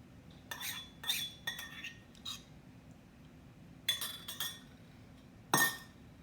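A metal tasting spoon clinks against a tasting bowl in a home kitchen while Beerocks are being made, giving sharp light taps in small clusters with pauses between them, the last tap louder and close.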